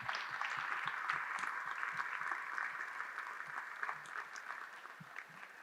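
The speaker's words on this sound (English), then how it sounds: "can I please have a round of applause from them being such a gracious host?" An audience applauds at a community town hall meeting, with steady sustained clapping throughout that tapers off slightly toward the end, heard at moderate distance.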